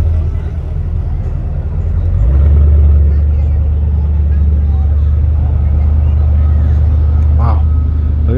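Two-stroke outboard boat engine idling steadily at a boat ramp, a loud continuous low drone with a slight lift after two seconds, with a voice speaking over it.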